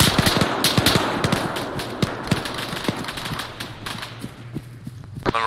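Machine gun fire in the military video game ARMA 3 crackles in dense, rapid bursts and scattered single shots throughout, fairly loud and close, over a busy background of battle noise.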